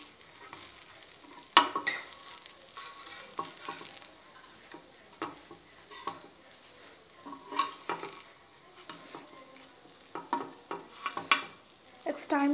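Idly pieces frying golden brown in a pan for dry masala idly, with a soft, steady sizzle broken by sharp, irregular scrapes and clinks of stirring, close up and with no talk.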